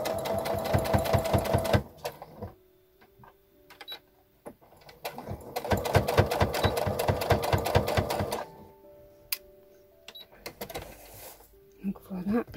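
A sewing machine stitches a small seam on fabric for a girl's spring dress in two rapid, rattling bursts of needle clatter, separated by quiet pauses with light handling clicks.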